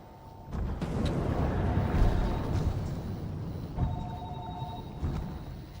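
A telephone rings from another room in the underwater game Narcosis, a muffled repeating electronic ring sounding twice at moderate distance over a low droning ambience.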